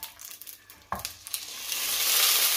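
A pork pie drops into a hot frying pan, giving a sharp impact followed by a sizzle that swells into a loud, steady hiss of frying fat.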